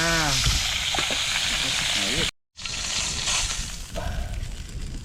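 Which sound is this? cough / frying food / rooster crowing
frying food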